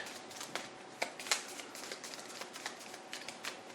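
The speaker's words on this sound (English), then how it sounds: "you shuffle the stack" A stack of cards is shuffled during a tabletop card game, giving a soft, quiet riffle of papery ticks and flutters with a few sharper snaps, close by and heard on its own.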